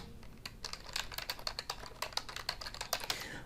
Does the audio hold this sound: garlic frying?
no